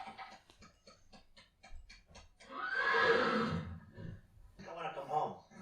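A carriage horse outside a hotel neighs in a long, loud whinny. Soft clip-clop taps come before it, and a second, shorter neigh follows. Voices talk over part of it.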